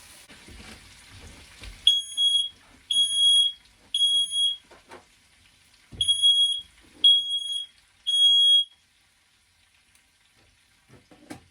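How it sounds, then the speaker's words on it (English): A smoke alarm sounds six sharp, high beeps in two sets of three, loud and close, separated by near silence. "Smoke alarm."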